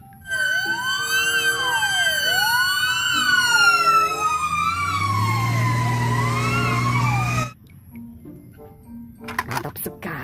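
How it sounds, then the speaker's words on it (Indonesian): A toy fire truck's electronic siren wails loudly up and down in rapid repeated sweeps for about seven seconds before cutting off abruptly, with low background sounds underneath. "Ada truk pemadam kebakaran."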